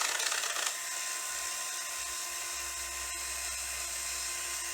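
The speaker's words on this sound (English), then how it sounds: "We've changed the direction on our drill, keeping it tight." A power drill twisting cord whines at a steady high pitch, running continuously and close up after a brief rougher start, with no voices.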